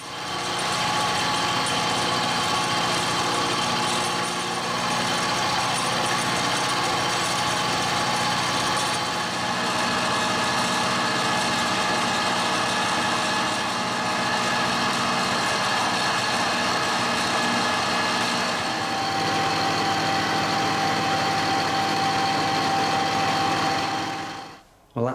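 A metal lathe turns and cuts with a shopmade tailstock trepanning tool, a continuous loud whining, humming machining drone held steady for over twenty seconds before stopping abruptly at the end.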